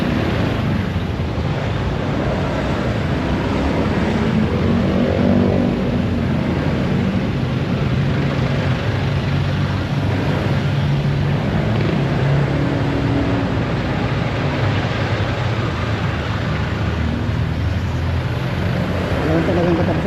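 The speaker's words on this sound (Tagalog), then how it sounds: "Wala talagang katapos ang traffic dito." Steady street traffic fills the background, a continuous rumble of passing vehicles with a wind-like wash, heard throughout with no clear gaps.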